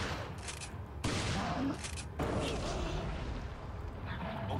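Shotgun fire in Resident Evil 4, a couple of heavy booming blasts over a dense, continuous wash of battle noise, close and loud, with faint talk in the background.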